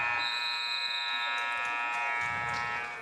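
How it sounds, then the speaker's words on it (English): High school wrestling match period buzzer, a sustained electronic buzzing tone that holds steady for about three seconds and then fades. "As the buzzer sounds,"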